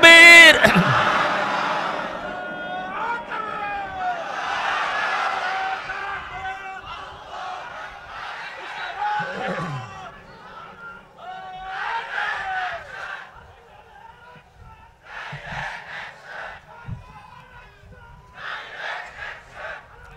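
A large crowd at an Islamic sermon gathering roars back in unison to a takbir call, several loud massed shouts rising and fading in waves, with a preacher's amplified voice between them.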